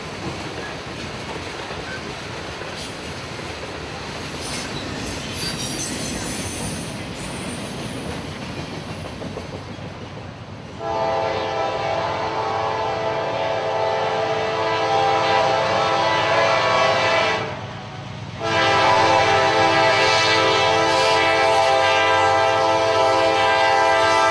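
Southbound coal train rushing past a gazebo in Austell, Georgia: a loud, close roar of rolling cars with a sustained horn blast that cuts out briefly and resumes, over steady wheel rumble.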